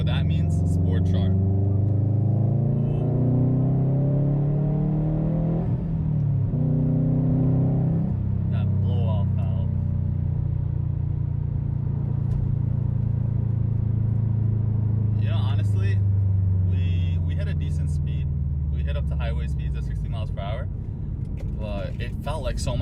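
Subaru WRX STI cruising on a highway in Sport Sharp mode, its loud engine droning and rising through gear changes with a deep cabin rumble throughout, while a person talks over it.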